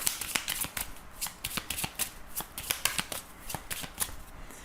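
Lenormand cards are shuffled and cut by hand, giving a steady run of close, crisp riffling flicks and slaps with no voice over them.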